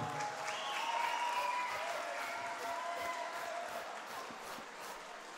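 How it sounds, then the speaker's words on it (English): Steady applause from a boxing-night crowd fills the hall for two debut fighters, a broad wash of clapping with faint cheering and whistle-like tones, fairly distant and sustained throughout. "please give both boxers a round of applause for that one"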